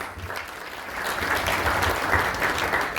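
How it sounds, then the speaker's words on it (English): A warm round of applause fills an evening tent gathering as a guest speaker is welcomed at a temple community event, the clapping steady and dense, swelling slightly after the first second and holding without talk. "Let's give her a round of applause"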